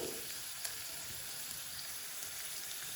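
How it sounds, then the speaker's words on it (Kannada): Chopped onion frying in a pan for lemon coriander vegetable soup, giving an even, soft, continuous sizzle that stays faint and steady throughout, with no talking. "ಈರುಳ್ಳಿ ಇದು ಸ್ವಲ್ಪ ಹೊತ್ತು ಚೆನ್ನಾಗಿ ಫ್ರೈ ಆಗಲಿ"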